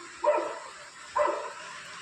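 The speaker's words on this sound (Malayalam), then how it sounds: "ആ ഒരു വീട്ടിലെ പട്ടിയായി കിടന്ന് കുരയ്ക്കുന്നത്." Two sharp dog barks about a second apart, moderately close, over a steady hiss of rain in the background.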